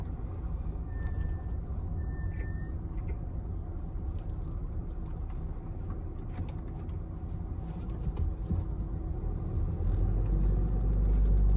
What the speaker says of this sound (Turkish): Ben şuraya park edeyim arabayı.